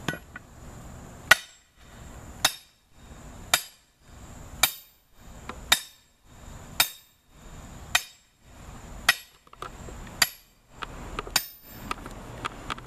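A sledgehammer drives a metal anchor picket into the ground with about eleven sharp, ringing metallic strikes at a steady pace, roughly one per second, each followed by brief quiet.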